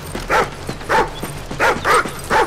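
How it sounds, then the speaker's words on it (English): Dog whimpering in the Call of Duty: Ghosts campaign mission No Man's Land, a series of five short, evenly spaced yelps or whines standing out clearly over a steady low game rumble, with no speech. "What is this dog up to?"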